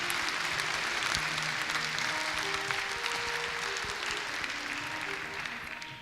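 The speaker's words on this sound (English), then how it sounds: "Please welcome Mr. Shin with a big round of applause." Applause from a plenary session audience welcoming a speaker to the podium, sustained, fairly distant clapping that slowly tapers toward the end, with faint voices murmuring underneath.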